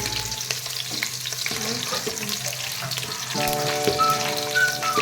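Onions fry in a pan for a fish curry, a close crackling sizzle mixed with watery splashing and a few ringing tonal notes from utensils or a tap, steady and moderately loud with no talking.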